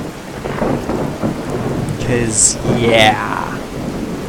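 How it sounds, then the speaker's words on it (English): A thunderstorm in Fallout 4, with steady heavy rain hissing throughout and thunder cracking and rolling in the middle. Someone speaks briefly over the storm. "Can y'all hear me over this storm?"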